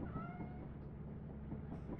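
A cat meows in the modded video game Lethal Company, a short drawn-out in-game meow heard close over a low, steady background rumble.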